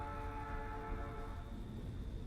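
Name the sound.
passing train in video game Night in the Woods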